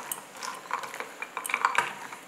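Honey-roasted cashews being stirred with a pinch of cinnamon powder in a pan, with light metallic scrapes and clinks from a spoon in short irregular strokes, close and clear.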